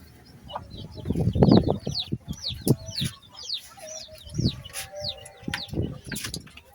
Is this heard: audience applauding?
no